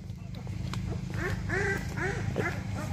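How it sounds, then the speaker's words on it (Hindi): Ducks quack repeatedly in a mesh-walled shed on a Bihar farm housing about 300 birds, a run of nasal calls sitting over a steady low hum, with voices talking faintly in the background. "तो आइए इनका सेट दिखा रहे हैं जहाँ पे ये रहते हैं बत्तख।"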